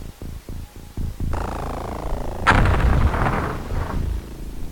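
A grenade goes off in the turn-based strategy game UFO Enemy Unknown: a sharp broadband blast about halfway through that rolls on into a rumbling, crackling tail. Several short thumps and a steady hum come before it.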